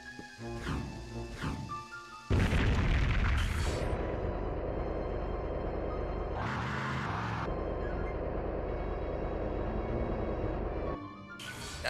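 A loud dynamite blast in the video game Body Harvest bursts in at about two seconds and then rumbles on as a long roar, after some earlier sharp in-game clatter and thuds.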